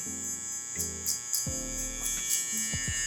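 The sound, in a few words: barber's electric hair clippers with lever closed, tapping taper line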